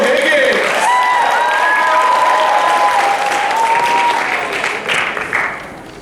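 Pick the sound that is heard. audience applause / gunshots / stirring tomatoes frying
audience applause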